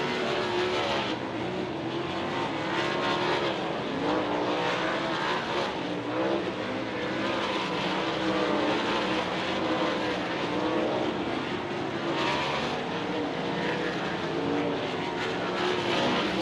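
Dirt race cars roar around the track during a hot lap session at Lucas Oil Speedway, a dense, steady engine drone that stays loud and continuous throughout, with no talk over it.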